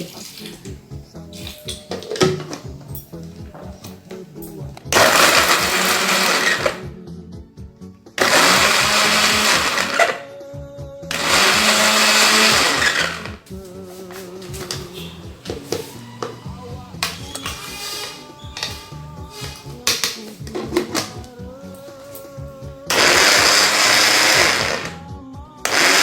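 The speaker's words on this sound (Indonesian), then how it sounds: "nanti saya akan blender ini" A blender whirs loudly in several separate bursts as it purées boiled palm sugar and tamarind with a little water, with quieter stretches of kitchen noise and talk between the runs.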